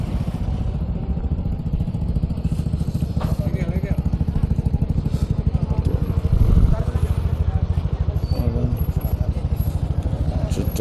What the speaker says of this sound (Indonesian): Ini banyak motor yang dari atas ke bawah.